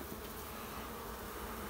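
Honeybees in a large wax-building hive under a church give a dense, continuous buzz that is faint and steady and has no talk over it.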